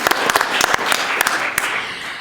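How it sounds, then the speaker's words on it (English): Audience applause at a university celebration, a crowd clapping loudly and close with sharp, separate claps over a steady patter, fading slightly toward the end. "let's give them a round of applause."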